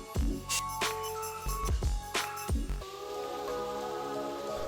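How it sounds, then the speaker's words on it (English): Garlic and mushroom mince fry in a pan with thyme, with sharp crackling spatter bursts in the first few seconds settling into a steadier, quieter sizzle. "We're going to fry our garlic literally for 10 seconds before adding our mushroom"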